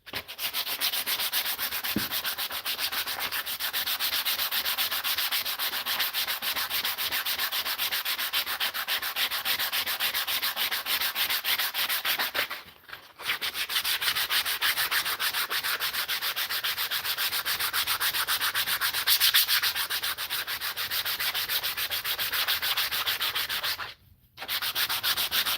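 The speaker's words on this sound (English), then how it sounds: "Just using the 80 grit sandpaper here." Hand sanding of a plastic custom brush guard for a Volvo XC70 with 80 grit sandpaper: continuous close, harsh scratchy rubbing strokes that pause briefly twice, with no talking.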